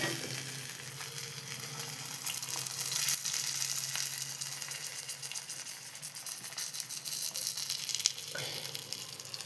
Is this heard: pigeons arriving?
no